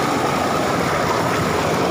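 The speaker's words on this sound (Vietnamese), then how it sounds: "Suối." A cool mountain stream flows outdoors, a loud steady broadband rush of water with a faint wind-like texture throughout, nobody speaking.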